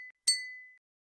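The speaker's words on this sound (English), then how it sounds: "What's that sound? Clink? The clinking." A single bright glassy clink rings out with a short decaying tone, isolated and fairly close, in the video game Z.A.T.O.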